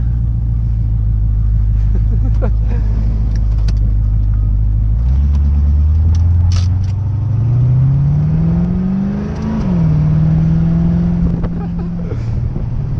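A 1985 Corvette's engine drones loud and close, then climbs steadily in pitch through a hard pull, dips briefly at a shift and settles into a high, sustained roar.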